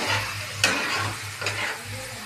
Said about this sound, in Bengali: এটা একটুখানি ভাজা ভাজা করবো